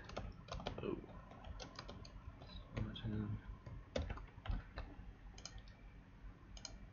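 A template name being typed on a computer keyboard, making quick bursts of close key clicks with short pauses, while a voice talks faintly underneath.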